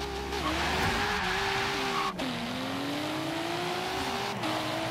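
A tuned Volvo with over 500 kW and ADV1 wheels races in Forza Horizon 3, its engine note rising and falling through gear changes as tires squeal and skid continuously over the run.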